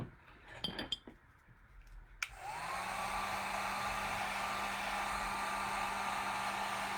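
After a few light clinks and taps, a hair dryer or heat tool switches on and blows a loud, steady whirring roar for several seconds to dry paint in a craft collage setting.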